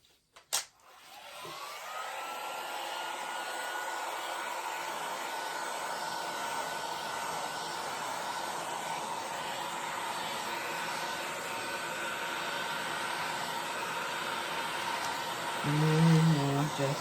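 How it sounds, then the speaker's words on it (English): A heat tool blows steadily over a mixed media tray, a continuous whooshing roar with a faint whine on top that runs unbroken for the whole stretch after a couple of brief clicks at the start, with no talking. "now I'm going to heat it up a little bit"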